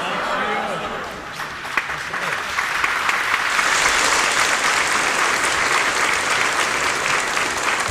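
A church audience applauds at the ordination of Metropolitan Dionysios of Corinth; the clapping swells after a quieter opening into loud, dense, sustained applause, with faint speech early on.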